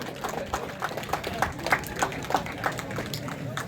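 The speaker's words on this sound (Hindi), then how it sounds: "बनाओ जोर से तालियां" Rhythmic clapping from a crowd at a political rally, steady and evenly spaced, with voices and general crowd noise mixed in.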